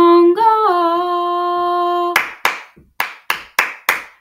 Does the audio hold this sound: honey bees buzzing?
no